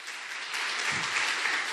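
Church congregation applauding during a sermon, a steady wash of clapping from many hands that swells slightly midway and holds throughout.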